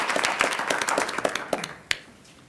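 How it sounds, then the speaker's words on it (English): Audience applause at a village board meeting, a crowd of hands clapping in a dense patter that thins out near the end, leaving a few scattered claps. "Round of applause."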